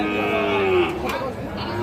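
A Sahiwal bull calf gives a long, loud moo close by, one drawn-out call that dips in pitch, with faint voices in the background at a cattle farm.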